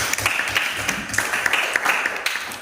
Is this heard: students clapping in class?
yes